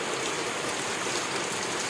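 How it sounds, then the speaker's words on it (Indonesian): A brief stretch of morning rain pours in a steady, full-band hiss, loud and unbroken from start to finish, with no voices. "Oke, hujan."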